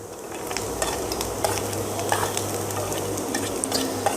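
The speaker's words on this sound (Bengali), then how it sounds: "এখন আমি এগুলোকে আবারও ফ্রাই করব, এগুলোকে আবারও ভাজবো" Vegetables including carrot and chopped chilli fry in a pan for fried rice, a steady close sizzle with occasional scraping stirs and light clinks, no talking.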